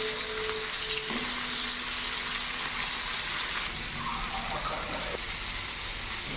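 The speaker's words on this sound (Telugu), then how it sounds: "తరిగి పెట్టుకున్న ఉల్లిగడ్డలను ఇలా బాగా ఆయిల్లో వేగనివ్వాలి" Chopped onions and tomatoes fry in oil in a pan with a loud, steady sizzle and crackle that runs without a break from start to finish.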